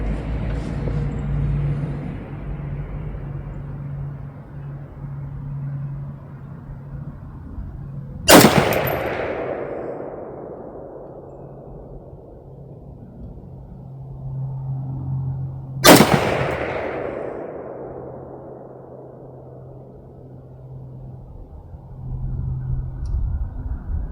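Two loud, sharp gunshots from a 1986 Romanian AKM PM63 rifle built from a parts kit, spaced several seconds apart outdoors, each followed by a long echoing decay over quiet background.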